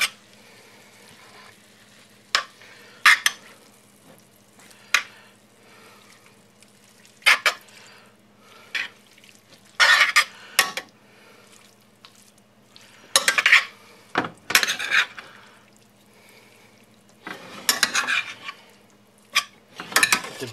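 Beef and yakisoba noodles stirred in a frying pan, with repeated scraping and clattering bursts of the utensil against the pan over a low steady sizzle, close and fairly loud, no talking.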